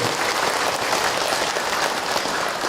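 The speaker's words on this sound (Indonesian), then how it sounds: "Tepuk tangan buat bunda yang bertanya" Dense, steady applause from a seated audience at an Indonesian Islamic lecture, honoring a woman who asked a question, a continuous wash of clapping with no voices.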